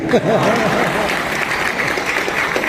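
Steady applause from an audience at a Hindi poetry recital (kavi sammelan) fills the clip, with a voice briefly audible near the start.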